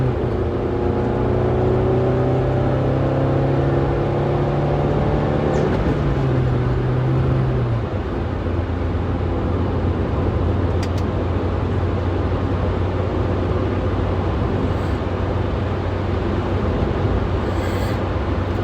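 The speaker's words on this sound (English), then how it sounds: "Check out this downshift." A car engine revs hard through downshifts, rising and falling pitch sweeps with a sustained drone, loud and close with no talking.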